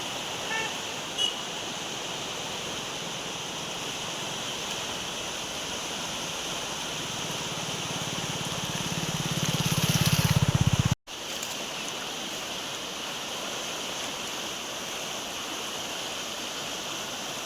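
A rain-swollen river in the Konkan countryside rushes past in flood, a steady broad roar of flowing water that swells slightly and then briefly cuts out before resuming unchanged.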